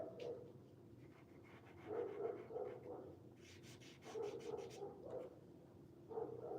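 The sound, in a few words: dog panting and barking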